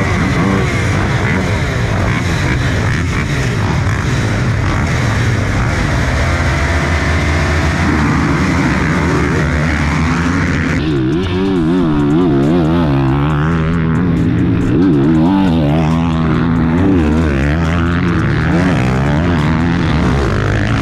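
A 450 dirt bike engine starts and runs loud and close, holding a rough steady drone before the revs begin rising and falling in waves. No voices are heard.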